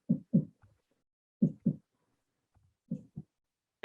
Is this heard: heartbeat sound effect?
yes